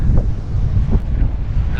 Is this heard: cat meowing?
no